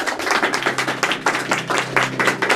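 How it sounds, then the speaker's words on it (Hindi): A church congregation gathered for a Hindi-Urdu sermon claps loudly together, a dense, rhythmic burst of many hands in quick beats, close and energetic, with a low background hum and no talking. "जोरदार तालियां अपने लिए बजाएं"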